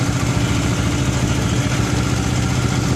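A motorcycle engine idles steadily and up close after its ECU ignition timing has been adjusted, giving a continuous, even rumble with no pauses.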